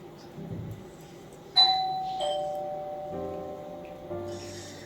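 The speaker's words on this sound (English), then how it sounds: "someone's ringing the doorbell" A two-tone doorbell chime rings once, ding then dong, ringing out clearly over a quiet room.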